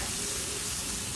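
Red onion hitting a hot pan and frying while cooking cassava with fried snapper, a steady close sizzle and hiss throughout with no talking.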